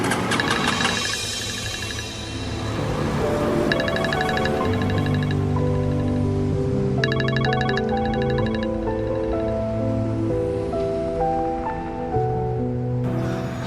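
A mobile phone ringtone rings in an Indonesian drama, a bright synthetic melody of sustained tones and rapid pulsing notes that repeats steadily for several seconds with no talking.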